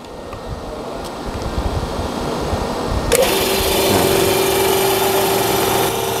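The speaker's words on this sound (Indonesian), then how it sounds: "dan hidupkan mesin" With the blower and temperature turned to full for an air-conditioning check, a car engine cranks and starts, then settles into a steady, close idle with a constant whirring hum.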